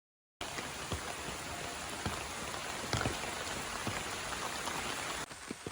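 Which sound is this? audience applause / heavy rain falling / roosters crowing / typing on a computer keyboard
heavy rain falling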